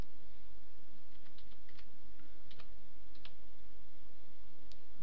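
Keys clatter on a computer keyboard during Photoshop work, scattered light clicks in short irregular bursts over a steady low background hum, with no voices.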